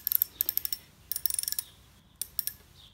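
Wrench ratcheting while tightening the valve on a Stihl 4-mix trimmer, rapid clicking bursts in three quick runs, close and clear with brief pauses between.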